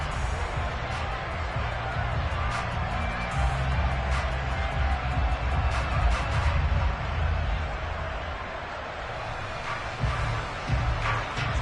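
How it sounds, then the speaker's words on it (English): A football stadium crowd roars as a steady wall of noise with scattered cheers rising out of it, while a commentator talks over the din. "That just means this crowd's going to get even louder"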